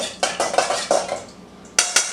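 A spoon clinks against a bowl while stirring yeast, sugar and water, a series of close, bright metallic scrapes and taps in an uneven rhythm, ending with two sharper clinks.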